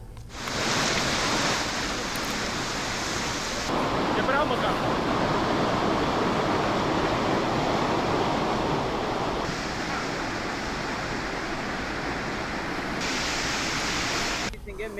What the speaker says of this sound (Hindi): यहाँ पे पानी का बहाव इतना बढ़ चुका है